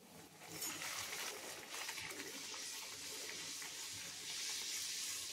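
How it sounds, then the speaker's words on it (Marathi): Puris deep-frying in hot oil give a steady, dense sizzle and bubbling hiss that continues evenly throughout, moderately close with no talking over it. "तेल तापून गेलं आहे. आता आपण पुऱ्या तळून घेऊया."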